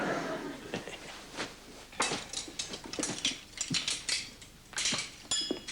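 Dishes and cutlery clink and clatter in a scattered series of sharp metallic and ceramic knocks, close and fairly quiet, with uneven pauses between them.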